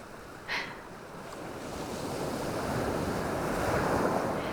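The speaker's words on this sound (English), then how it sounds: "I used to think I would not flee if the waves were to rise to meet me here" Ocean waves wash continuously onto a shore, a broad rushing surge that builds steadily louder over a few seconds, mixed with wind noise and a brief soft chirp near the start.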